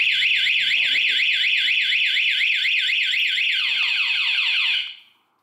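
The anti-theft alarm on a blue Honda MSX motorcycle wails loudly with a fast, rising-and-falling electronic siren that then shifts pattern before cutting off abruptly, with faint voices underneath at the start.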